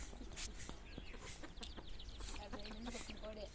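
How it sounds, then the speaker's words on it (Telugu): Hens cluck and chicks cheep in a busy, close-up jumble of short calls, with faint chatter and a low background hum. "అదిగో కోడి పిల్లలు ఎన్ని ఉన్నాయో ఎంత కోటి కోటిగా ఉన్నాయో"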